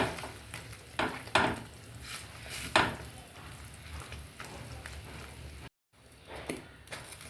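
Spice powders, including asafoetida and chili powder, being stirred into simmering sambar in a pot, with soft scraping and clinks of the spoon against the pot over a quiet bubbling sizzle, followed by a short silent gap.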